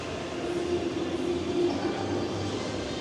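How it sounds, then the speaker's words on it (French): A fast train rumbles past at close range, a continuous low roar with a steady tonal hum that swells briefly midway, with no talk over it. "c'est ceux qui vont vite là, c'est les trains qui vont vite."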